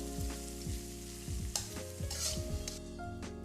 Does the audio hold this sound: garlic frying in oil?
yes